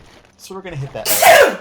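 Loud sneeze bursting out near the end of a short stretch of a man's speech during a Dark Souls gaming session, sharp and close to the microphone.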